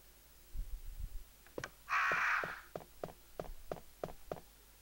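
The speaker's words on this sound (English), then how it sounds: "I'm forever walking around and noticing these crows, and they're massive!" Crows cawing in the survival horror game Resident Evil 1: a string of about ten short, harsh caws spaced roughly evenly, with a brief rushing flutter of wings partway through, heard clearly with no talk.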